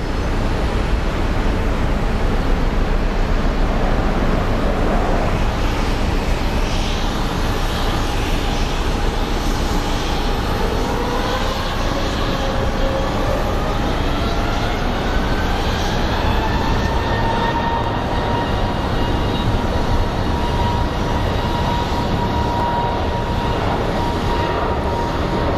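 A jet airliner taking off steeply from Phoenix Sky Harbor International Airport, a loud continuous engine roar with a rising whine that sweeps upward as the aircraft climbs, heard alone without voices.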